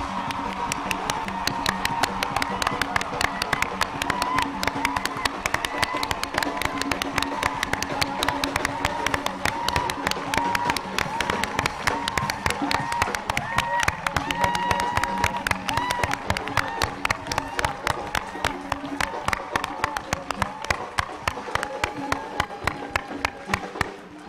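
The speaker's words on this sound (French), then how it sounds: "I want you to clap with all your strength" A large crowd claps hard and steadily in a dense, loud, continuous wall of applause, with scattered cheers mixed in, lasting throughout at a festival event.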